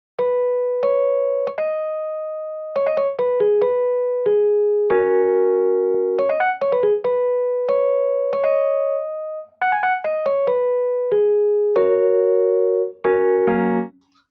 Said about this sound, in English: I played it by ear on the keyboard, and then I came up with this without the effects